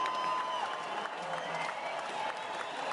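Indian cricket supporters at a 2017 India versus England one-day international clap continuously for their team, a distant crowd applause that stays faint and steady throughout, with no talk.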